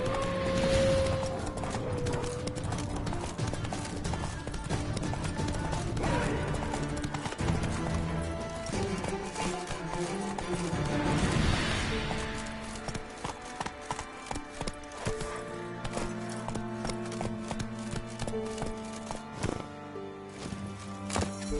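Roach the horse from The Witcher 3 gallops along with rapid, steady hoofbeats that carry on beneath a busy game soundscape and music. A brief neigh rises near the start, and the hooves fade out toward the end.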